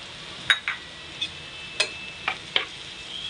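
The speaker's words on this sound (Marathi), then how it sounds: "सगळं व्यवस्थित मिक्स करून घ्यायचं आपल्याला" A spatula stirs turmeric, Malvani masala and salt into reddened onions for a spicy egg half fry, giving a handful of sharp, scattered scrapes and clicks against the pan over a faint sizzle.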